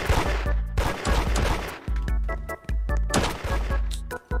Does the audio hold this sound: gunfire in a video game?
yes